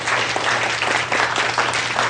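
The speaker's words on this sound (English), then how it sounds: "Give him a nice round of applause" Audience applause during a conversational hypnosis seminar, a brief, dense burst of clapping from a room full of people, steady throughout.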